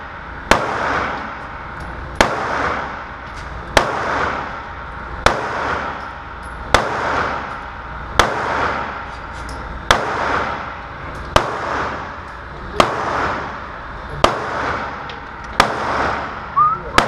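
Rifle fired through an Omega 36M suppressor: about ten evenly spaced, sharp cracks roughly every second and a half, each followed by a brief decaying tail, loud and close with no speech.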